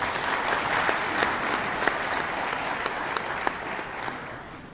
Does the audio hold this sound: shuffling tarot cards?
no